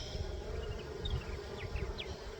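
A bee buzzes steadily at close range beside its comb, wings humming continuously with a fluctuating drone throughout, no talking.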